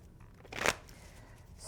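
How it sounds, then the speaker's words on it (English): A deck of tarot reading cards being shuffled by hand, a single soft riffling burst near the middle of an otherwise quiet moment, close and fairly faint. "I'm just going to continue to shuffle as I speak."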